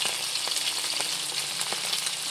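Dried fish (bulad) frying in hot oil, a steady close crackling sizzle with scattered sharper pops throughout, no voices over it.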